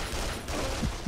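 Rapid gunfire from the first-person shooter Duke Nukem Forever, set in a ruined Las Vegas level, rattles as a steady dense barrage throughout, with a couple of sharper low bursts near the end.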